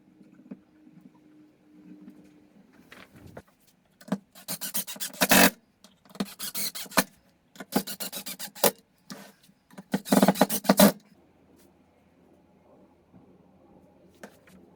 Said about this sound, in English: Now I'm going to put the top on. Again, just screwing and a bit of wood glue.